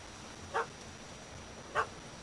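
A dog in The Witcher 3 gives two short, separate barks about a second apart, moderately faint against a steady low ambient bed.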